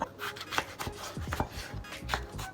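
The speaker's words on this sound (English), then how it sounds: "We're just going to take our tomato, cut that." A knife slices through a tomato on a cutting board in a few quick, close cuts with soft thuds and wet squelches, no talking.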